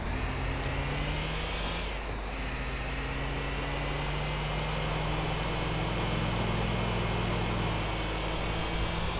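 Taxi cab driving in Grand Theft Auto IV: steady engine drone with road rumble and a brief dip in revs early on, continuous and moderately loud, no talk.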